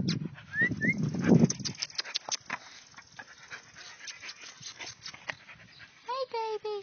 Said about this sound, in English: here's Lori's puppy barking